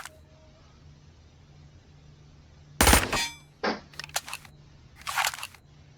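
An MP7 submachine gun fires at a target: one loud, sharp burst of shots close by, then a few quieter cracks and pops spread over the next couple of seconds, with no voices.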